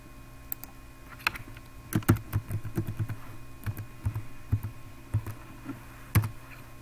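Fingers type a username and password on a computer keyboard, a run of irregular close key clicks with brief pauses and a few sharper taps.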